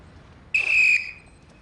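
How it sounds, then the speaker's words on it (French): A single sharp, high whistle blast lasting about half a second marks a stage of a timed running test for French Foreign Legion recruits, ringing out clearly over quiet outdoor background. "12e coup de sifflet."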